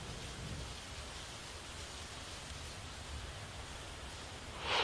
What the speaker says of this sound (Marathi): जिल्ह्यातील काही भागात मोठ्या प्रमाणात मुसळधार पाऊस पडतोय